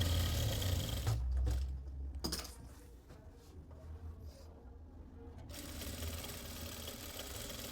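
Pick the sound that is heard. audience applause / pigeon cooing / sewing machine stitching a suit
sewing machine stitching a suit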